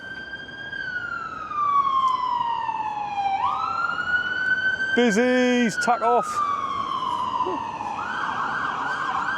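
An ambulance on a driver-training run passes along Westgate Road in Newcastle, its siren wailing and sweeping in pitch, swelling loud then fading, with a short burst of yelp tones midway and someone talking briefly over the traffic.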